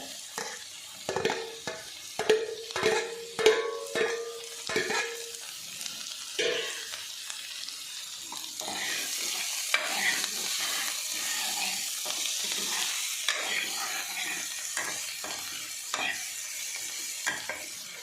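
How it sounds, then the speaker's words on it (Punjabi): Finely chopped tomatoes, added to browned onions while cooking an arbi (taro) vegetable dish, sizzle and fry in a pan. A spoon scrapes and stirs in a quick burst of clinks early on, then soft steady sizzling continues alone. "ਥੋੜੀ ਜਿਹੀ ਵੀ ਅਸੀਂ ਟਮਾਟਰ ਨੂੰ ਵੀ ਨਰਮ ਨਰਮ ਹੋਣ ਤੱਕ ਭੁੰਨਾਂਗੇ"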